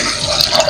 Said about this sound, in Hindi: अब इसमें हम पानी डाल देंगे और नमक डाल देंगे।